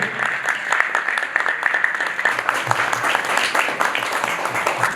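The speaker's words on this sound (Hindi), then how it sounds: "जोरदार तालियों से बीबी यादव जी का स्वागत हो।" A hall audience gives sustained, dense applause welcoming a guest onto the stage at an awards ceremony, loud and continuous for several seconds with faint crowd sounds mixed in.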